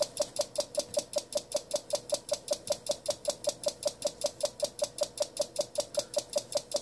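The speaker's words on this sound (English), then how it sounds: "what you're hearing here is the carrier in between the dits." Morse code keyed on an Icom IC-7300 transceiver in full break-in mode, a rapid even string of sharp tone pulses with received carrier audible in the gaps, steady and clear without speech.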